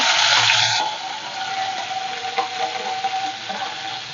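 Green chillies and curry leaves hit hot oil already holding mustard seeds and cumin for egg bhurji, setting off a loud burst of sizzling that settles into a steady frying hiss.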